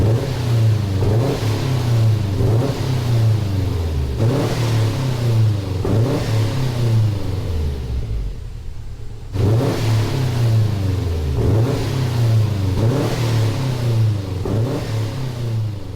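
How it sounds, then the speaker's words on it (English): A bug-eye Subaru Impreza in a video game revs repeatedly in rising, surging pulls with a deep boxer-engine burble, briefly dropping off mid-way before climbing again, loud and close. "I do love the boxer engine."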